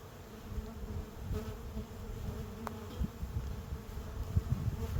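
Honeybees fly in and out of a hive entrance after colonies were newly transferred, making a dense, steady buzzing swarm drone that stays close and continuous throughout with no talking.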